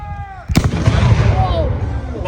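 Cannon fired at a Revolutionary War reenactment: one loud, sharp boom with a long rumbling tail, heard close, with people talking and calling out during the fading echo.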